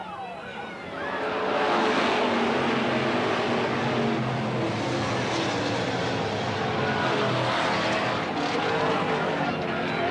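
Stock race cars roaring off the green flag at Eugene Speedway in 1991, a loud swelling blend of many engines that holds steady, with a commentator talking over it.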